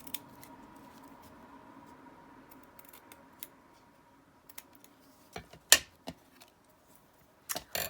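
Scissors snip through packaging while tags are being made, giving a few sharp, close cuts that grow louder toward the end, over a quiet room hum.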